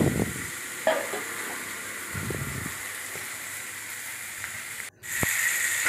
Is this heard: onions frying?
yes